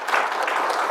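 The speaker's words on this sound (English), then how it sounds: "Everyone, just give him a round of applause if you don't mind." Audience applause for a guest after a talk, a steady burst of dense clapping filling the room at close range, with no voices over it.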